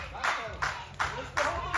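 Rhythmic audience clapping for a band at an outdoor town fair, a few firm claps in even time, close and moderately loud, with no talking over them.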